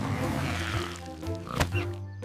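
A cartoon pig gives a low, growly oinking grunt, close and fairly loud, followed by a brief sharp noise near the end.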